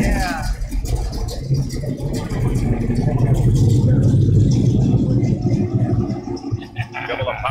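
A 1968 Pontiac GTO at a car show gives off a deep, steady engine rumble that swells slightly midway, with background crowd noise around it.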